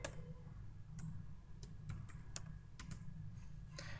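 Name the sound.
typing a mobile number on a computer keyboard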